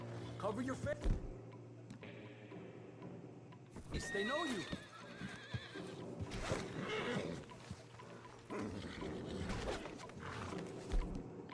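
Horses in Red Dead Redemption 2 give loud whinnies and neighs over clip-clopping hooves and other animal noise, with game dialogue in the background throughout.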